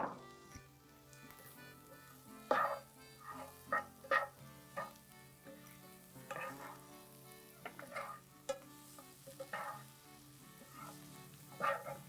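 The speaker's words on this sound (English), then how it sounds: "we don't want to brown the onions all the way per se, but we do want to cook them down before we add our cabbage" Onions with sugar fry in a pan, a soft, steady sizzle with scattered crackles and stirring clicks, quiet and close.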